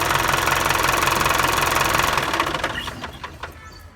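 An old starter motor cranks an engine, which catches and runs with a loud, steady, rattling knock before the sound tapers and sputters at the end.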